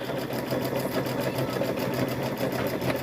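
A sewing machine stitches a fabric trick-or-treat bag, a fast, regular whirring rattle pulsing steadily throughout at moderate volume with no voices.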